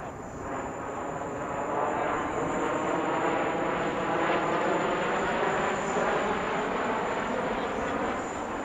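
A J-10CY fighter jet with Russian AL-31FN engines flies at the Dubai Airshow, making a continuous broad roar that builds and holds steady over several seconds, heard from a distance with no talking.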